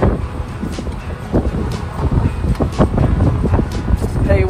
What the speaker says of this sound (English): Tell you what, it's windy out here for sure.